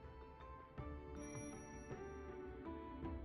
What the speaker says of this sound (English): Here's your bell.